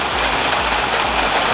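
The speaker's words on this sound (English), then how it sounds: "Sorry about the rain." Rain falls outside in a steady, loud hiss, with a faint low rhythmic rumble underneath and no voices.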